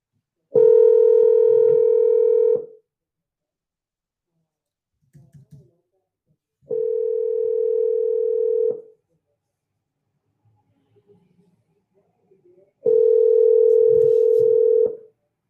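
A steady telephone ringback tone sounds while placing a cold call, in three long, even beeps of about two seconds each, separated by roughly four-second silences, with faint clicks in the gaps.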